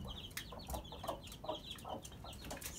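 Chickens clucking inside a coop bedded with wood shavings: a run of short, scattered clucks and soft calls from several birds at moderate distance, with no talking.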